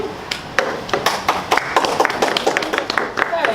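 A small audience at a Toastmasters speech evaluation session claps in scattered, uneven bursts, individual claps close and distinct, with talking mixed in.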